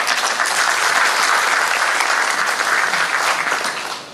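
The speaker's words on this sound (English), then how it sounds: "I think you deserve a big round of applause from the crowd" A luncheon crowd at a Philippine mining event bursts into sustained, dense applause, loud and steady clapping that holds for several seconds before tapering off at the end.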